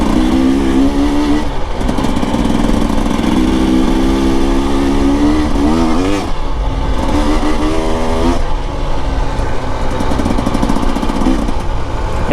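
A 2025 Husqvarna TE 300 Heritage edition two-stroke dirt bike ridden with stock pipe, its engine loud and close throughout, rising and falling through buzzy revs and gear changes with no pauses.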